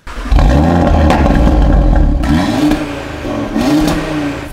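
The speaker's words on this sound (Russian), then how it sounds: "Нариман, давай, заводи ее." An Audi TT RS engine fires up and revs hard, a loud, close roar that rises and falls in several throttle blips before settling toward a steady note.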